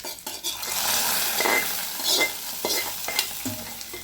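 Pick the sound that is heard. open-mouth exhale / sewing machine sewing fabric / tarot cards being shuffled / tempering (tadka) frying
tempering (tadka) frying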